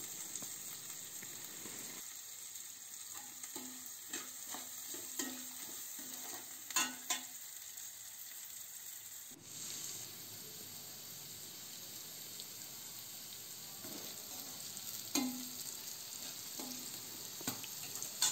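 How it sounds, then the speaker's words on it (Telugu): Onion and yogurt chutney mixture being stirred and fried in a pan, a faint steady sizzle with intermittent spatula scrapes and clinks, a brief lull in the middle, no speech. "చివరిగా ఉప్పు వేసి బాగా కలపాలి"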